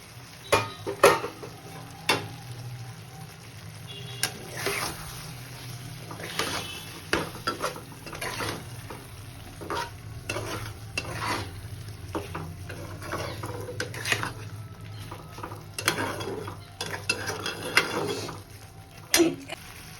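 Paneer is stirred in a pan for butter matar paneer, with a spatula repeatedly scraping and clinking against the metal over a continuous low sizzle in an irregular, busy rhythm.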